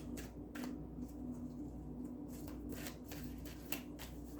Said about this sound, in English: It's weird too because the first card that was on top of the deck before the shuffle was Mother Mary.